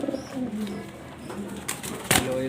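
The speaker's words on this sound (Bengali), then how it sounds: "মাদি কবুতরটা ডিম নিয়ে বসে আছে" A female pigeon sitting on a clutch of eggs gives low, soft coos at close range, with a brief sharp rustle near the end.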